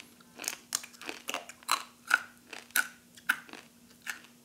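Thick Central American yucca chips crunched in a series of sharp, close bites and chewing crackles, loud and rhythmic, with no talking.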